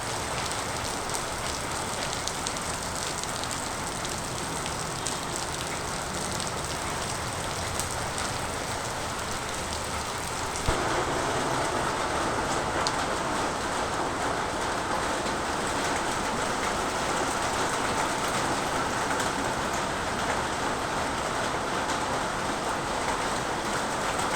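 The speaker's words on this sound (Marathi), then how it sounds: "आता सकाळचे 8 वाजले पुन्हा पाऊस चालूच आहे सरीवर सरी." Heavy monsoon rain falling in the Konkan region in the morning, a dense continuous hiss of downpour on surfaces that swells slightly louder midway and stays steady throughout, with no voices.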